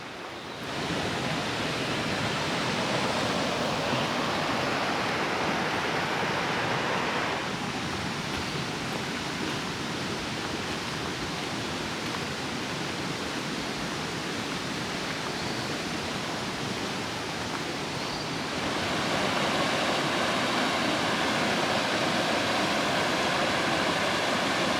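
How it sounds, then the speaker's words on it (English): Waterfall at Morialta Falls near Adelaide, a steady, loud, full rush of falling water continuing unbroken throughout, with no voices. "So when we get to the waterfall, we'll just leave the camera running for a bit just to enjoy that sound."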